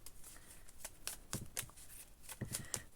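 Tarot cards shuffled by hand, a soft series of riffling flicks and slaps in an irregular rhythm, close and fairly quiet, with no speech.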